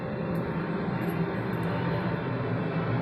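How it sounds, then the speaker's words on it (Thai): An airplane flies overhead near an airport, a steady, loud broadband engine roar that fills the whole moment without rising or fading, with no voices. "เครื่องบินดังดีจังเลย อยู่ใกล้สนามบินตัวนตก"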